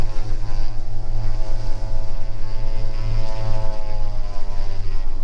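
Twin-engine propeller aircraft, a Beechcraft Baron G58, running up to 2,200 RPM on the ground while the propeller is cycled, giving a loud, steady droning engine hum with a shifting harmonic tone throughout.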